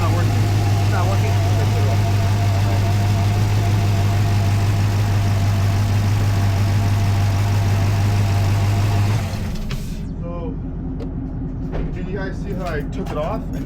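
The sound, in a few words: 2010 Camaro engine idling during misfire diagnosis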